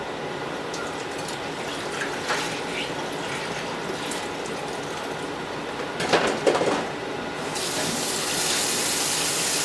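Liquid pours out steadily from a pot of meat being prepared for stuffing, a continuous close gushing splash into a sink with a brief louder surge near the end and no talking.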